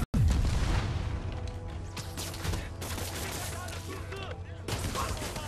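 Gunfire in a Spider-Man video game, with dense bursts of shots and booms cracking loudly and continuously through the scene over game music and effects.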